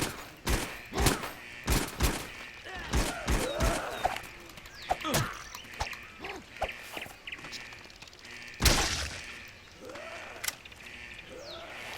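Shotgun blasts in the video game How to Survive: a series of sharp, loud shots fired at uneven intervals, with short gaps and quieter game noises between them.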